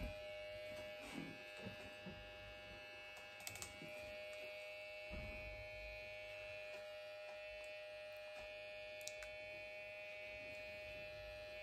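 An electric microneedling pen works on a face, giving off a faint, steady high buzz with occasional small clicks throughout.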